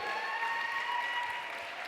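A church congregation applauds steadily during a sermon, a dense wash of clapping, and a faint sustained tone rings underneath.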